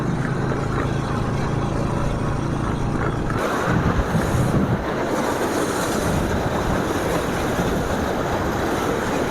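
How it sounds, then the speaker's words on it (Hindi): Water released from the Kharkatta dam rushes loudly and continuously, a dense roaring churn close by that shifts slightly in tone partway through and never lets up. "खरकट्टा डैम से ये पानी छोड़ा गया है"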